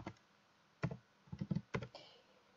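A computer keyboard being typed on in short bursts of clicks, a few isolated taps then quick clustered keystrokes, close and fairly quiet with no voices.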